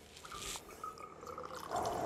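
Liquid trickles from a bottle during a flair bartending pour, a faint, thin pouring and dripping sound under soft room noise for about two seconds.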